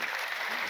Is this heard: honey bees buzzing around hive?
no